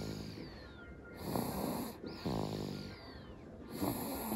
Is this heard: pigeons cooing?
no